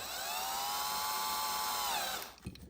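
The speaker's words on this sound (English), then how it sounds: "we're gonna drill right in the center of these rivets" A small power drill whines at high speed for about two seconds drilling out rivets on a Hot Wheels toy car, pitch dipping slightly as it bites, then cuts off with a faint clatter.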